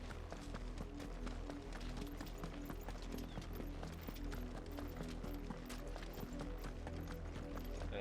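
Horse hooves clip-clop at a steady running gait while riding in Final Fantasy XVI, a continuous rhythmic clatter layered over dense game music and ambience.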